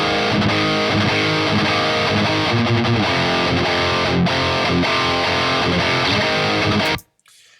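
A heavy metal electric guitar tone, boosted by a compressor with no distortion pedal, plays as a dense, loud, saturated riff that cuts off abruptly near the end.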